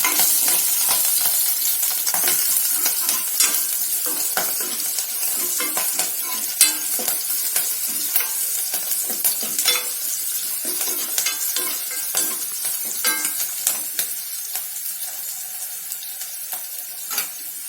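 Green chillies frying in hot oil among tempering spices for a bitter gourd curry, a steady close sizzle with frequent scraping stirs of a ladle against the pan, no voices.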